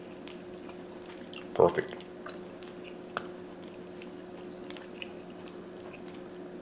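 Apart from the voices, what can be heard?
chewing sausage-rubbed pork tenderloin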